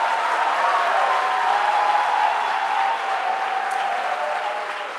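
A church congregation bursts into sustained, dense applause for about five seconds, a loud and steady wash of many clapping hands that fades slightly at the end.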